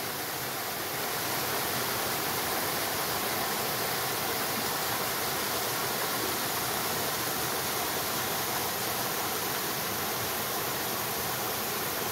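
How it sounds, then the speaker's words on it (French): A cascade on a small river at the Vaux de Cernay in the Vallée de Chevreuse, a loud, steady broadband rush of falling water close by, unbroken throughout with no voices. "Une des cascades des veaux de Cernay."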